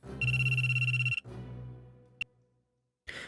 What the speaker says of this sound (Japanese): 椿の携帯が鳴った。